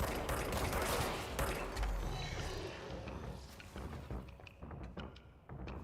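A rocket explosion in Control booms at the start, followed by a rumbling, crackling aftermath of debris and echoing thuds that gradually thins and fades.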